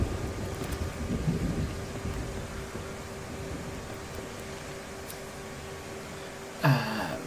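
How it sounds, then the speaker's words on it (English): A thunderstorm builds in a video game world, with steady rain and wind hiss, a low rolling rumble of distant thunder, and a short sharp crackle near the end, no talk. "every single time I load in here, there's always a storm, like, imminently on approach"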